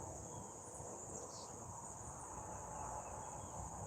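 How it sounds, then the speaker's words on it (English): Steady, continuous cricket chirping dominates, a high shrill trill running throughout against a soft outdoor background hiss. "I wish that cricket would go on"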